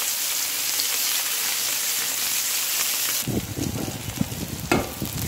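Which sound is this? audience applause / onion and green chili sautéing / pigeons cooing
onion and green chili sautéing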